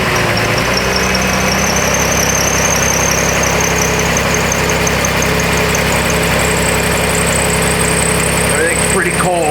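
A cold 2007 Jeep Grand Cherokee with repeated alternator failures starts up and settles into a steady idle, its engine rumbling loud and close with a constant mechanical hum and no pause throughout.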